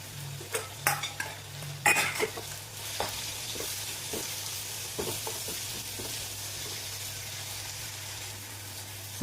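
Finely chopped tomato and onion frying in a pan, with a cluster of spoon clinks and scrapes at first, then a continuous low sizzle with occasional stirring taps.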